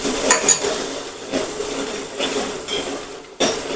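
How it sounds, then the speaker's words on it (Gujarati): Green chutney sautéing in a pan with a curry-leaf tempering, for a spicy Gujarati potato curry: a steady sizzle broken by repeated stirring scrapes and metallic clinks of a spoon against the pan. "હવે ચટણીને આપણે થોડી સાતડી લેશું"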